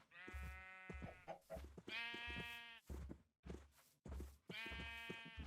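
Minecraft sheep bleat nearby in a series of about five loud, wavering calls separated by short pauses, with no talk over them.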